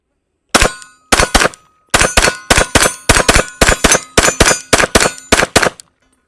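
Rapid pistol fire from a Glock 45 Gen 6 hits steel targets in a loud, sharp string of about fifteen shots, each followed by a ringing clang, fired in quick pairs and bursts at close range with no talking.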